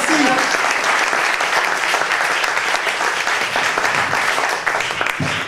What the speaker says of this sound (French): Je vous demande d'applaudir Pascal Guézou.